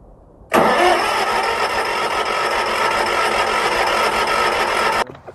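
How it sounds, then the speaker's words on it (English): A Scag lawn mower engine catches after the pull start and runs loudly and steadily up close for about four and a half seconds, then cuts off abruptly. "We gotta teach him how to start a motor."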